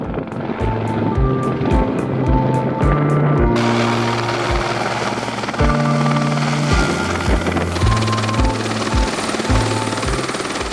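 A loud, steady helicopter drone with a low rhythmic thump over the Maurienne mountains, close and continuous throughout, with a sharper whine dropping away early on.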